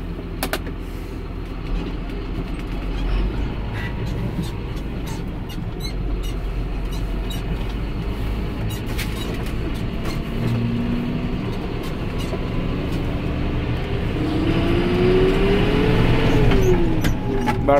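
A John Deere 6930 Premium PowerQuad tractor driving, a steady low diesel drone with clicking inside the cab and a rising whine near the end.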